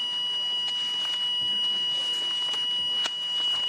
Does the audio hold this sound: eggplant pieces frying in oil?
no